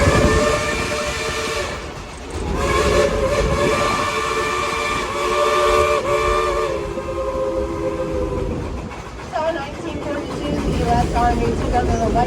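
A steam locomotive on a moving train sounds its whistle in long sustained multi-tone blasts over the rumble and clatter of the rolling cars, with a shorter whistle near the end.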